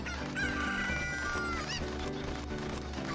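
Chickens cluck and squawk in the Zelda Ocarina of Time Randomizer video game, a busy run of bird calls layered over loud game music and effects.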